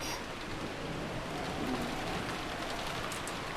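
Steady rain falls in the Umineko visual novel game as an even, continuous hiss at moderate volume, with no talking.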